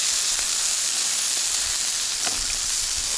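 Bacon sizzles loudly on a Blackstone outdoor griddle as strips are lifted off, a constant dense crackling hiss broken by a few faint scrapes.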